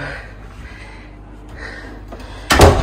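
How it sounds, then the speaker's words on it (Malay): A single solid thud of a villa room door being shut near the end, close and fairly loud after a few seconds of quiet room sound, at a villa in Tetebatu, Lombok. "kita tutup pintu dulu"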